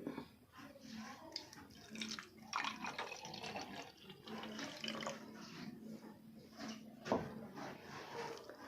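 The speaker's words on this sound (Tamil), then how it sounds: "இன்னொரு பாட்டில் நான் ஊற்ற போகிறது தண்ணி." Water is poured into a bottle as a steady, splashing trickle that rises and falls over several seconds. Low background voices and a brief knock mix in with it.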